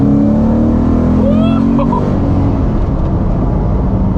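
A cammed Ford Mustang GT accelerates hard in second gear, its loud rising engine note close up and continuous, heard from inside the car.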